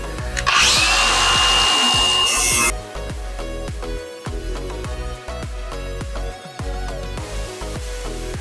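A power saw cuts pieces during a school bus conversion, a loud sustained whine for about two seconds, followed by clattering, knocking work noises nearby.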